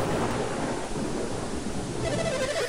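Rain and a thunderstorm from the Game Boy Advance game Golden Sun: a continuous dense wash of rainfall with low rolling thunder underneath, steady and fairly loud, without any talking.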